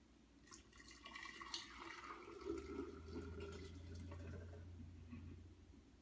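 Homemade coconut milk being poured, a soft continuous liquid trickle and splash into a container, faint and close, swelling midway and tapering off near the end, with no talking.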